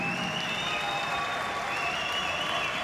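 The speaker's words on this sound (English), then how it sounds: "The crowd applaud." Boxing arena crowd applauding after a 10th-round knockout, a dense, steady roar of clapping that fills the whole stretch without a break.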